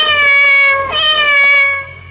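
A cat in a Hindi nautanki stage drama gives loud, drawn-out, wavering meows, close and clear, with a short break and a pitch dip between two cries.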